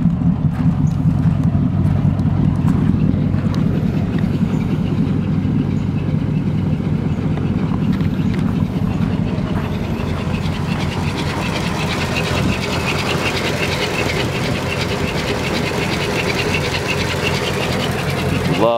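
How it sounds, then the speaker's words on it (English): The flathead V8 of a restored all-steel 1936 Ford pickup rumbles at a steady idle with a low, even beat and a light ticking clatter on top, heard up close without a break. "Flathead definitely has a nice rumble to it."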